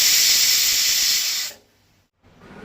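A pressure cooker whistle hisses loudly with a sustained jet of escaping steam for about a second and a half, then cuts off abruptly, leaving quiet.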